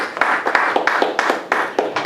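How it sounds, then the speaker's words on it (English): A short burst of clapping from a small group, a steady patter of hand claps with a few sharper claps standing out. "Again, a round of applause."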